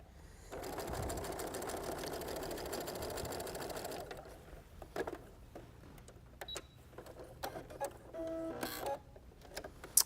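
A sewing machine stitches fabric along a curve for a quilted botanical wall hanging, running in a steady continuous whir for about three and a half seconds, then quieter clicks and handling noises follow.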